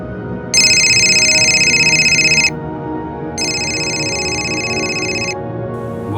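Two long trilling phone rings of about two seconds each, separated by a pause, sound over a steady low background hum after a call is placed.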